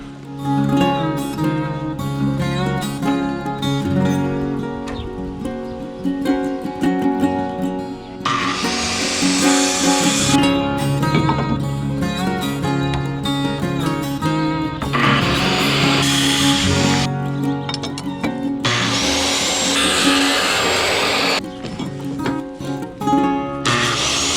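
Power saw cutting off the ends of wooden shed roof boards, with loud sustained cuts separated by brief pauses and the motor whining throughout.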